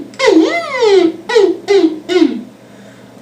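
A voice imitates a siren with four wailing sweeps. The first is long and rising-falling, followed by three shorter whoops, close and loud.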